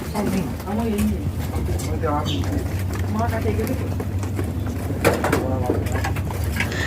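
About 150 racing pigeons coo steadily over a low hum in an enclosed loft, with several birds calling at once and a voice talking briefly through it.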